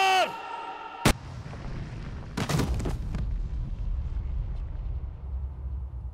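A single sharp, loud gunshot cracks out in a Hindi-dubbed South Indian action film, followed a moment later by a few more impact bursts and a lingering rumble.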